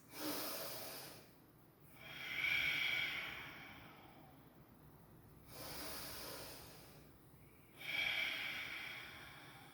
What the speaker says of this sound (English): Take another big breath in. And then exhale